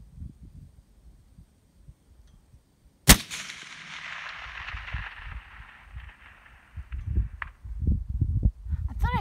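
A single sharp rifle shot fired at long range, about 1,000, toward a steel plate: quiet outdoor air, then one loud crack with a lingering rolling tail, followed by faint wind and handling noise.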